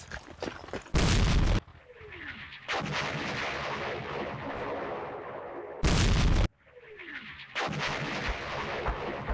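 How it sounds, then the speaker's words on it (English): Artillery barrage in the Campaign Series Vietnam war game strikes a battalion headquarters: two loud, sharp blasts a few seconds apart, each followed by a long rumbling roar and falling whistles, with no voices. "Battalion HQ took a hit from that artillery"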